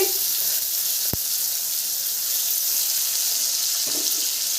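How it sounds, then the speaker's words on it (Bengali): Raw mango and tomato fry in a pan, giving a steady broad hiss of sizzling oil throughout, with a single sharp click early on and faint stirring sounds later. "আম টমেটোটাও তিরিশ সেকেন্ড ভেজে নিব"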